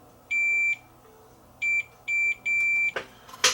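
A multimeter continuity tester beeps while probing an old 1980s Panasonic CD player: four clear steady tones of differing length, one short and three longer, followed by a couple of faint clicks, with no talking.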